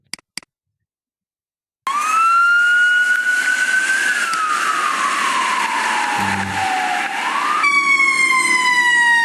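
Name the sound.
fire truck siren approaching and receding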